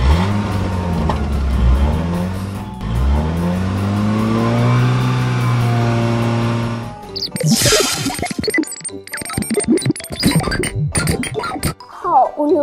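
A cartoon car in a children's PJ Masks animation revs loudly with rising and falling engine tones, then gives way to busy clattering sound effects and whooshes as it speeds off, with scattered voices.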